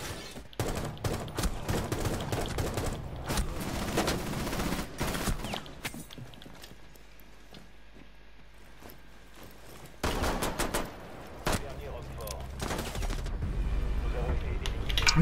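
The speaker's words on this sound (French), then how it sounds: "Je tire au pif." Automatic gunfire from a Rainbow Six Siege match, dense bursts of rapid shots that come and go, with a quieter stretch in the middle before heavy firing resumes, loud and close throughout.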